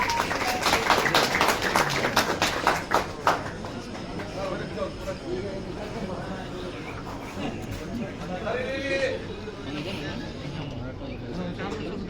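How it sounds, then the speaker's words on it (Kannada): Applause from an audience at a film team's event, a dense patter of clapping that is loudest at the start and then fades under an ongoing voice and background crowd noise. "ಅಲ್ಲಿ ಜೋರಾದ ಚಪ್ಪಾಳೆ ಮತ್ತೊಮ್ಮೆ"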